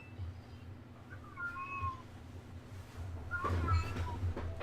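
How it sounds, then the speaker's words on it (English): Faint, high meows from a cat rise a few times over a low background hum, distant and soft, with a louder cry near the end. "That meowing in the background"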